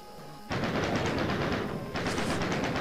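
Gunfire while killing monsters in the Doom video game, two loud rapid bursts of repeated close shots separated by a short break, with no talking.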